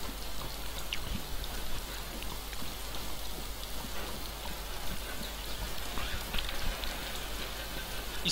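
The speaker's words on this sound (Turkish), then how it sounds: "Yağmura bak ya, nasıl güzel yağıyor." Steady rainfall in the survival video game DayZ, a dense even hiss of drops on surfaces running continuously without pause, with no voices over it.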